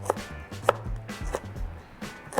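Lemongrass stalks being chopped with a knife on a chopping board, four sharp, separate knocks spaced roughly half a second apart, close and fairly quiet.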